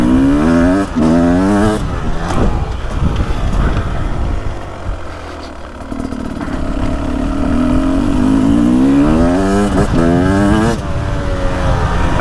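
A 2024 Beta 300 Race Edition two-stroke dirt bike engine revs loudly and close, rising and falling in repeated bursts with a brief lull in the middle before climbing again.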